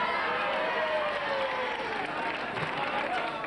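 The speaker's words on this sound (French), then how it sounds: "J'aimerais qu'on l'applaudisse avant, parce qu'on n'est pas sûr de pouvoir le faire après." A studio audience applauding a blindfolded contestant in a comic obstacle-course game show, steady dense clapping that fills the whole stretch at moderate loudness, with some voices mixed in.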